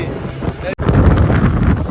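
Strong wind blows hard across the microphone on a fishing boat at sea in rough weather, a loud continuous roar with buffeting gusts and a brief cut near the start.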